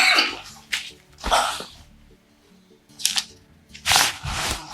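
A sharp, close sneeze bursts out amid a few short vocal sounds and quiet room noise.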